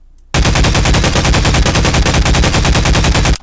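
An automatic gun in Garry's Mod fires a loud, sustained burst at close range, rapid evenly spaced shots packed into a continuous roar that starts abruptly and cuts off after about three seconds.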